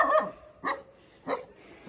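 Small dogs barking in play, three short yappy bursts spaced about half a second apart, fairly close, with no talking.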